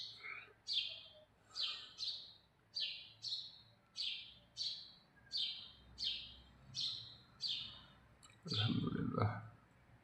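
Birds feeding on seeds left outside give a regular series of sharp, bright chirps about every three quarters of a second, clear and fairly close, ending in a brief louder burst of rustling or flutter.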